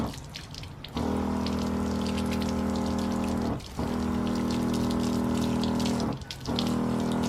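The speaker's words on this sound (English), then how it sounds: "the water comes out kind of more like a stream than a spray" Water streams from a Rinse Kit Pro fitted with an Autonozzle, a steady hiss and gush with a pump hum underneath. It breaks off briefly twice before starting again.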